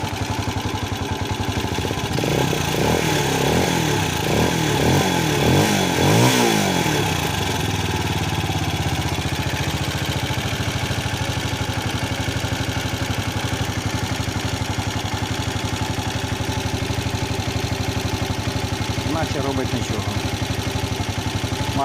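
A warmed-up Loncin 200 163FML single-cylinder motorcycle engine runs at a steady idle close by, a continuous low chugging that briefly swells around the middle, with some talk and handling noise over it.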